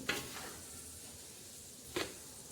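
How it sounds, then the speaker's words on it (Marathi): Masala for a raw mango pickle worked around a kadhai, heard as two faint, brief scrapes about two seconds apart against a quiet hiss, with no voices. "आपण ह्या कढईत पूर्ण मसाला असा हलवत आहोत"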